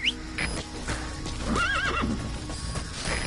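A horse in the video game Metal Gear Solid 5 lets out a loud, clear whinny in the middle, with hoof clip-clops and game ambience around it, and no talk.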